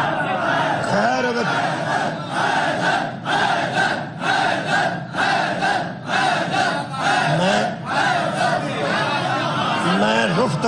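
A packed majlis audience chanting slogans together, a loud continuous roar of many voices with rhythmic surges, close and filling the space throughout.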